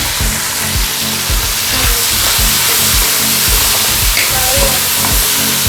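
Three medium chopped, washed onions dropped into hot oil in a pan, frying with a loud, dense, close sizzle and rhythmic stirring scrapes throughout.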